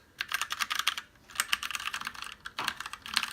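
Fast, steady typing on an RGB LED mechanical keyboard with brown switches, close and clear, with a busy run of clacky keystrokes and short pauses between bursts.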